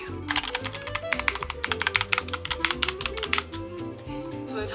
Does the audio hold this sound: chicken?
no